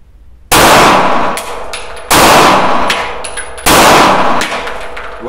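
Three loud, sharp pistol shots fired at a steady pace on a shooting range, each a sudden blast with a ringing, metallic tail that fades before the next shot, close and dominant.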